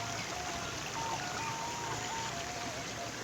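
A rocky river stream rushes continuously, a steady broadband wash of flowing water heard close and uninterrupted.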